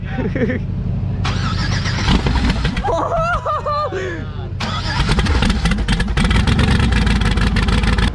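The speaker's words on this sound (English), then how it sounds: "Hey, Carl, just fire it up and shoot everything out of the exhaust" A car engine cranks and catches, then revs loudly several times and settles into a rough, throaty idle; people talk over it.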